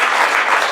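A short, dense patter of audience clapping at a Rock Against Racism gathering in Victoria Park, steady and fairly loud for under a second.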